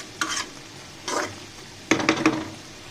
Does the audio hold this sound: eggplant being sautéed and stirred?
yes